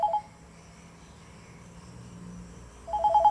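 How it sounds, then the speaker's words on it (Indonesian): A telephone rings with short electronic warbling bursts at the start and end, fairly close, separated by a quiet gap with a low background hum. "Ntar dulu ulun angkat telepon apa pentingnya."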